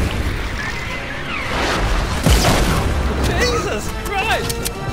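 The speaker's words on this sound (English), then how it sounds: "Someone fired a rocket at me." A launcher rocket explodes in Fortnite with a loud, close boom in the middle of a busy, noisy game mix. Chirpy effects and voices sound around the blast.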